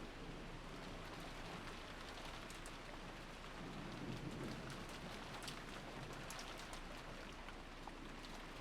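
Steady rain falls as a game sound effect in Umineko When They Cry, a soft continuous hiss of drops with a faint low rumble underneath, quiet and unbroken, with no talk.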